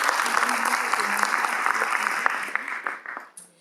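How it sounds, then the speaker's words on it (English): Audience at a political town hall event applauds steadily, a dense patter of many hands that fades out near the end, with a voice faintly audible underneath. "give yourself a round of applause for that"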